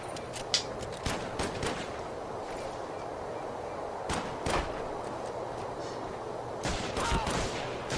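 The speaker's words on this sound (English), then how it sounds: "between your friends you always end up with the epic gun battles where no one just wants to die" Gun battle in the Wii game Medal of Honor Vanguard, with sharp gunshots cracking out in irregular bursts over a steady background din, a few louder reports standing out.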